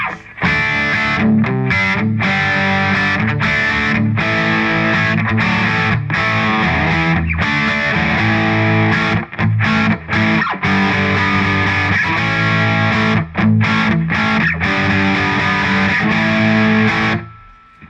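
Distorted electric guitar plays heavy chords and riffs through a Boss Katana Artist MkII amp on a contour setting, thick and loud, with brief gaps between phrases and no talking.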